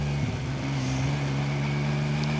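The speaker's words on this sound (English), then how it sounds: "I think it's just the engine that makes it sound so beautiful." Idling engine of a 2025 Yamaha MT-09 motorcycle with stock exhaust, a steady low rumble heard up close and alone, with a slight blip early on.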